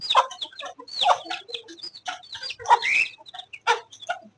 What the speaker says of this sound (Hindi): और ये मुर्गी परेशान है